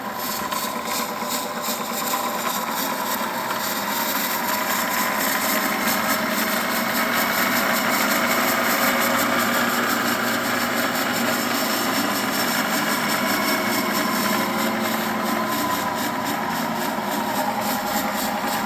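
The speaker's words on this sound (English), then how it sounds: "So this is the vertical spindle going forward in high drive." A Wells Index 860 horizontal-vertical milling machine runs its vertical spindle forward in high drive, giving a steady, close mechanical hum and whine that continues unchanged throughout with no talking.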